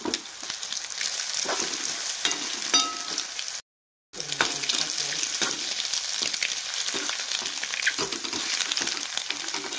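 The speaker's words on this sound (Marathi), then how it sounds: "आणि आता आपण ह्याला छान परतून घेऊया." Egg bhurji being sautéed in a pan, a strong, close, continuous sizzle with stirring scrapes, broken once by a brief silence before the frying resumes.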